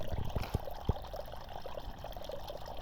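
Water from a natural spring flows and trickles steadily near a river, faint and continuous, with a few soft splashes standing out near the start.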